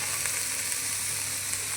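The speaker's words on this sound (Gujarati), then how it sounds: "અડધું કેપ્સિકમ નાખ્યું છે તેને શેકી લઈશું સરસ" Onion, green chili, tomato and capsicum frying together in a pan, a brief, dense, even sizzle heard up close with no talk.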